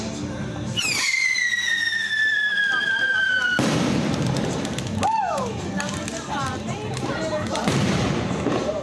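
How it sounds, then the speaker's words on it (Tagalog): New Year's Eve fireworks in the Philippines crackle and boom close by, with whistling rockets sliding in pitch, sharp bursts and scattered thuds, while people talk and call out beneath the noise. "Sobra dami na nagpa-fireworks."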